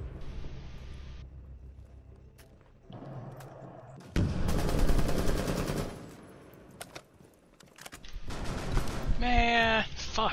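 Video game gunfire with shotguns rings out in bursts, loud sharp blasts and rattling volleys separated by quieter gaps, with someone talking at points between the shots.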